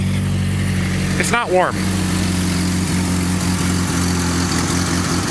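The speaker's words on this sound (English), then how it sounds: "This thing with the Weber carburetor. It's a pretty good runner. Starts right up." A 1985 Toyota Tercel wagon fitted with a Weber carburetor idles steadily in the cold, a close, even engine hum with a low rhythmic pulse, while someone speaks briefly over it.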